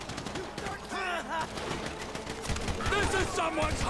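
Gunfire from a shootout in Grand Theft Auto 5, sharp repeated shots in a busy, dense mix with game sounds throughout, fairly loud and steady.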